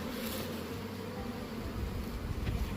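Honey bees buzz densely and steadily around an open hive during a spring inspection, a close, continuous drone with no talk.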